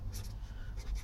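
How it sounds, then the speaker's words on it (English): Pen scratching briefly on paper as a number is written down, a short soft close-up stroke sound lasting about a second with no talking. "I'll just write it down."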